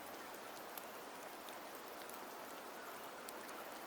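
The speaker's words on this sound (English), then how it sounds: "The rains in Septimont never seem eager to leave this season" Steady rain falls in Septimont, a rainy region in the video game Wuthering Waves, as an even, soft hiss of countless drops with faint scattered pattering, quiet and unbroken, with no voices.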